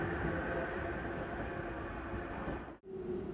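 A Tobu electric train, a refurbished car formerly run through onto the Hibiya subway line, pulls into a station with a steady, loud rumble and hiss that briefly drops out near the end.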